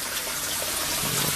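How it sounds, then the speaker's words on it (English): Running water from a faucet while shrimp are rinsed, a steady close gushing splash that continues without a break. "I'm good at rinsing off this shrimp"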